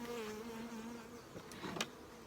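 Honeybees hum steadily inside a late-season nuc hive in July, a close, continuous buzz with a few brief louder passes of single bees near the end.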